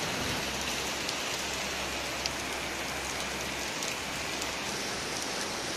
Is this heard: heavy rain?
yes